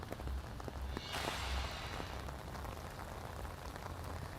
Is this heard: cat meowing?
no